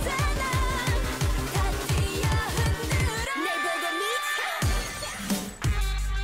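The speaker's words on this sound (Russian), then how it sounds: "Звон разбитого стекла." Glass shattering effect in a K-pop song, a bright breaking crash near the three-second mark as the music cuts out, set within loud electronic music.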